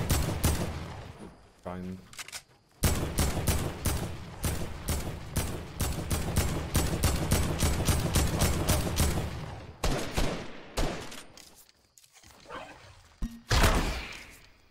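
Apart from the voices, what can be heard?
gunfire in the video game Fortnite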